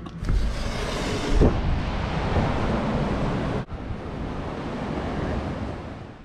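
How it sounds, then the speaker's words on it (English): Strong wind buffeting the microphone at the beach in Ocean City, with loud continuous rushing surf noise and gusty roar, one sudden dip midway before it resumes, no voices. "We come down here and that wind is blowing."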